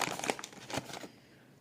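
A small plastic packet from a Baby Annabell doll set crinkles and rustles in quick bursts up close, then fades to quiet near the end.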